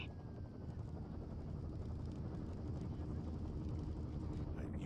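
A helicopter in Firewatch thrums steadily at a distance, a continuous low rotor drone under a broad wash of wilderness ambience, with voices talking over it.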